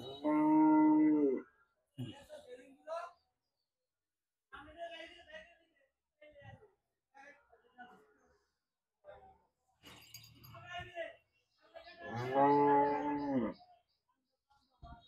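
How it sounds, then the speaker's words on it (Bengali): A large Sahiwal cross bull and cows moo loudly at a cattle market, with long deep calls at the start and near the end and shorter sounds between quiet gaps; someone talks between the calls. "দেখেন কত বড় আকারে একটি ষাঁড় গরু, শাহিওয়াল জাতের ক্রস।"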